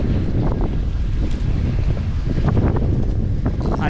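Strong wind buffets the microphone during extreme-weather catfish fishing outdoors, a steady loud roaring rumble with gusty swells and no talk.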